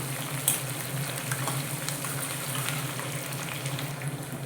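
Brinjal frying in a pan with burnt dried red chillies, a steady crackling sizzle with a low cooking hum beneath and occasional sharper pops, close and continuous.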